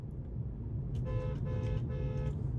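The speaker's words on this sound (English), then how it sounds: "Wait, I want to honk it again." Mercedes C63s horn honked three times in quick succession, short close toots with a bright harmonic tone over a low idling rumble.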